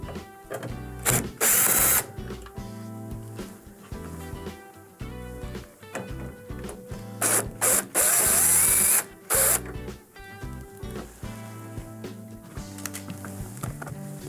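Power driver whirring and ratcheting in repeated bursts while backing out number 2 Phillips screws holding the grill of a Whirlpool microwave, close and fairly loud with short pauses between runs.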